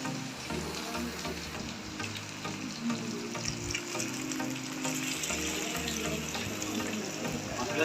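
Fish frying in a pan, with a continuous close sizzle and crackle mixed with watery, splashing texture and occasional stirring clatter, loud and steady throughout.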